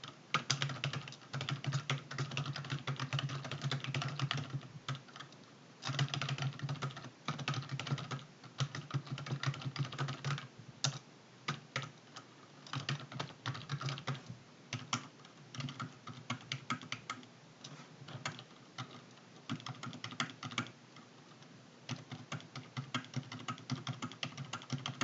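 Rapid, irregular clatter of a computer keyboard as spreadsheet data is entered in Excel, fairly quiet and close, continuing with brief pauses throughout.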